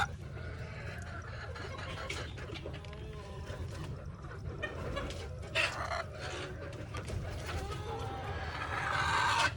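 Egyptian Fayoumi hens cluck softly in a coop while laying eggs, faint scattered clucks and rustling over a low background hum, growing a little louder toward the end.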